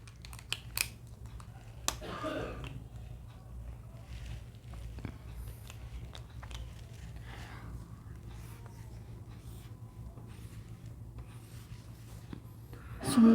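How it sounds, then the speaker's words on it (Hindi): Marker or chalk scraping across a classroom board, in short scratchy strokes and taps at irregular intervals, fairly close with a steady background hum and no talking. "इसको मिटाते नहीं है, यहीं लिख देते हैं।"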